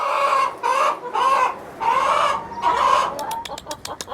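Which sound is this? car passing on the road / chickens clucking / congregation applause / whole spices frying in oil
chickens clucking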